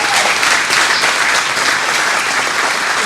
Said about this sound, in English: And can we get another round of applause?